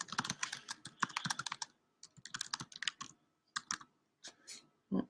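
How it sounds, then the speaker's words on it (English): Typing on a computer keyboard, close and fairly quiet, with rapid bursts of key clicks broken by short pauses. "I'm going to type these together."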